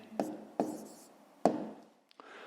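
Numbers being written by hand for a fifth-grade decimal addition exercise: three distinct close scratchy pen strokes, then a lighter tap and further scribbling, in a quiet room.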